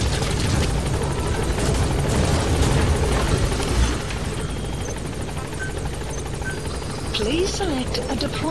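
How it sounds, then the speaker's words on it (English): Support helicopter arriving in the Metal Gear Solid V video game, a steady close rotor and engine roar that eases slightly halfway, with a voice talking over it. "Support helicopter has arrived."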